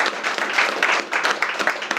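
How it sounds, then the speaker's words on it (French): An audience at a leadership talk applauds loudly and steadily, a dense wash of many hands clapping close by without a break for about two seconds. "Applaudissez vraiment pour Kiswensida"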